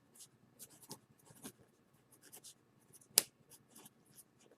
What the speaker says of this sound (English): there's the lead in my pencil breaking